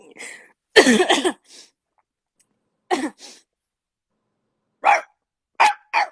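A dog lets out a few short, sharp barks separated by pauses, some bursts doubled and one longer, louder volley near the start, each bark close and clear against silence.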